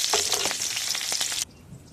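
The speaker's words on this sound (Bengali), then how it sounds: "দুটো কাঁচা লঙ্কা আর একটা ছোট পেঁয়াজ কুচিয়ে নিয়েছি। এবার এটা দিয়ে দেবো তেলেতে" Chopped green chillies and small onion hit hot oil in a pan with a bright, close sizzle and crackle lasting about a second and a half, then cutting off abruptly.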